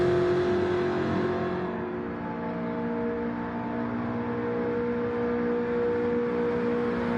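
GT4 race car engine in a racing video game, holding a steady, loud harmonic drone as it rounds the final corner, with pitch shifting slightly mid-lap and no talk over it.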